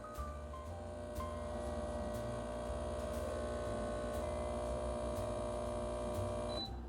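Home espresso machine pulling a double shot, a loud steady pump hum and drone with layered tonal buzzing running continuously, no talk.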